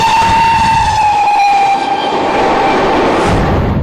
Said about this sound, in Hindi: लाखों की संख्या में लोग इस लोकल ट्रेन से सफर करते हैं